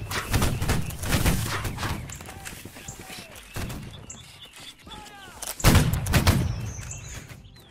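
Artillery cannon fire in the Napoleonic-era video game Holdfast: Nations at War, several heavy booming blasts with rumbling tails at varied distances, mixed with voices talking.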